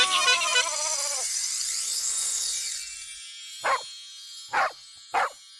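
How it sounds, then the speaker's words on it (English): A dog barks three times, short and spaced apart, after a swooping musical jingle, each bark clear and fairly close. "The dog barks."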